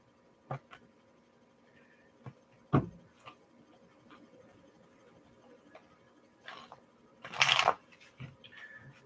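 Quiet riffling and soft slaps of tarot cards being shuffled, with scattered taps and one louder burst of rustling near the end.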